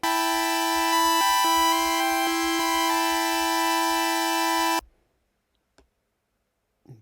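Synthesizer patch on an iPad app holding four sustained voices, bright buzzy tones that shift pitch a few times, then cutting off abruptly into near silence with a couple of faint clicks.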